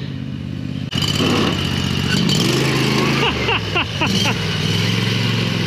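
A small 670cc engine idles and chugs at low speed, close by, with some rattling and clatter over its steady running.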